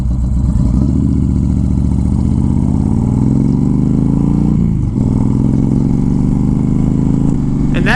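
Honda Fury motorcycle with a 2-into-1 exhaust pipe and a flashed ECU accelerating hard, its engine note climbing steadily and loud throughout, with a brief dip near the middle before it pulls again.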